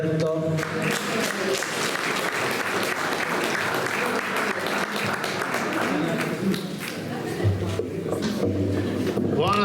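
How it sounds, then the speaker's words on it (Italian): Sustained audience applause for Roberto at an Italian evening gathering, a thick continuous patter of clapping with some voices and shuffling mixed in. "un applauso a Roberto"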